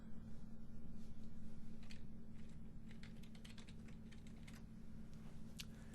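Quick, irregular clicks of fingers typing on a computer keyboard, close and fairly quiet over a steady low electrical hum, with no talking.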